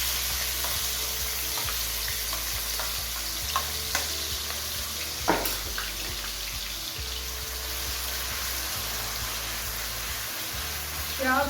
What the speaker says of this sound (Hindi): कढ़ाई के अंदर 2 चम्मच ऑयल डाला। ऑयल अच्छी तरह गर्म हो चुका है। अब इसके अंदर प्याज ऐड करते हैं।